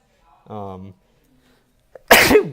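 A man's single sharp sneeze bursts out loudly near the end, following a brief stretch of voiced sound and silence.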